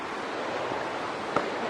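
A creek running high enough to seem like a small river, heard on an early-season backpacking trip near a bridge: a steady, broad rushing wash that holds even throughout, with one brief sharper splash or knock.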